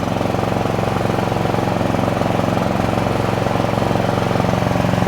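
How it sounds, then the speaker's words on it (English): A ventilation fan in a generator building pushes air out as its damper is still opening, producing a loud, steady mechanical drone with a fast, even pulsing throb that runs unbroken from start to finish. "You can see that fan is pushing air out, but not a lot because the damper's still in the process of opening."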